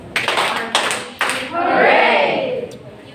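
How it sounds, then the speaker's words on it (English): A classroom of students gives three sharp, evenly spaced claps together, followed by a loud group cheer that swells and fades. "let's give 3 claps and 1 hooray for Vincent"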